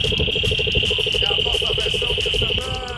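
Frogs calling outdoors in Bahia, Brazil: a steady, rapid pulsing chorus with a constant high trill above it, fairly loud and continuous for the whole stretch, with no voices.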